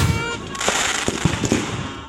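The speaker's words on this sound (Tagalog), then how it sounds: "biglang sunod-sunod na sumabog ang mga paputok sa baba" Firecrackers go off in a rapid string of sharp pops and cracks at a New Year celebration in Antipolo, Rizal. The bursts are spread across a noisy, crowded background at moderate distance.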